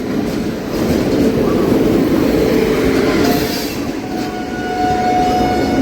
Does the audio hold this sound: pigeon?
no